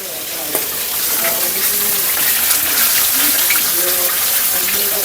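Food cooks in a pot on a large, tall clay stove, producing a steady, loud bubbling and sizzling hiss throughout, with faint voices in the background.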